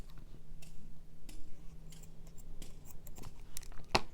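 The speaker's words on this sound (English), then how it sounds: "I'm going to cut my excess yarn" Scissors snip through excess acrylic yarn while finishing a crocheted handbag, a few quiet, close clicks spread out over a faint steady hum, with one sharper snip near the end.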